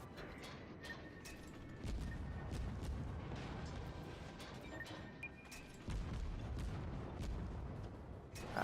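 Torpedo explosions strike a ship during a World of Warships naval battle, deep rumbling booms and rolling blasts layered over continuous low battle noise, with sharp cracks scattered throughout and surges near two and six seconds.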